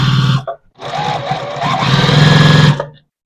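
A sewing machine stitches quilt block squares together at a quarter-inch seam, a loud close motor whir in two runs with a brief pause between, then stopping.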